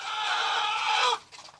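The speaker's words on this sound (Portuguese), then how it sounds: "Tem uma galinha enjoada demais aqui." A broody hen on a rural Brazilian farm gives a sustained, fairly loud drawn-out clucking call for about a second. A few fainter clucks follow after a short pause.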